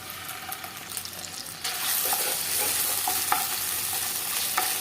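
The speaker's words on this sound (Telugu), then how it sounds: "ఆయిల్ వేడెక్కాక ఇందులో అల్లం వెల్లుల్లి పేస్ట్ 2 టేబుల్ స్పూన్స్ వేసుకున్నాం." Ginger garlic paste hits hot oil in a kadai and breaks into a loud, steady sizzle, with soft stirring scrapes beneath it and no voices.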